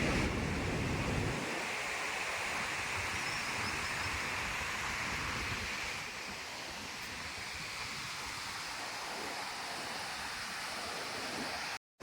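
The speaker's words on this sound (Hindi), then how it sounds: "देखो ये नदी।" Flowing river water rushes as a steady, broad wash of noise, with a heavier low rumble at the start that eases after a second and fades slightly midway, with no speech over it.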